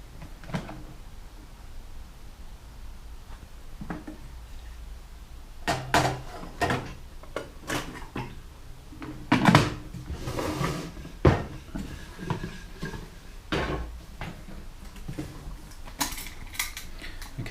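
A slow cooker holding a traditional English Christmas cake is opened in a kitchen, with a series of sharp knocks, clatters and lid clanks over quiet room noise.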